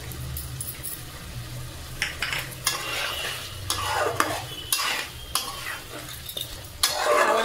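Chicken and thick sour yogurt are stirred in a pan with a spoon, giving repeated scraping strokes over a faint sizzle, with occasional utensil clinks, and no one speaking.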